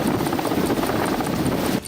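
Indian Air Force helicopter flying a flood rescue mission, its rotor a loud, steady close drone with rhythmic blade chop that continues unbroken, then cuts off abruptly near the end.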